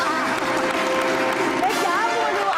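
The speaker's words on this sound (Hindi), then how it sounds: "परवशा के लिए तालियां बजाइए" Studio audience clapping on a Pakistani TV entertainment show, a steady dense patter of applause lasting a few seconds, mixed with background music and voices.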